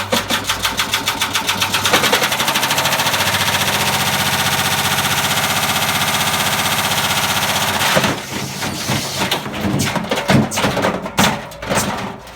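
A Haier washer dryer motor spins hard while the drum bangs in a rapid, loud rattling rhythm, then slows into irregular heavy knocks and thuds near the end.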